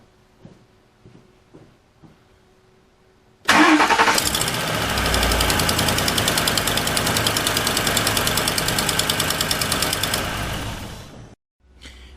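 After a few quiet clicks, a Ford Explorer 4.6L 3-valve engine with a leaking passenger-side exhaust manifold cranks and starts, then runs loudly with a rapid ticking, puffing exhaust beat for several seconds before shutting off.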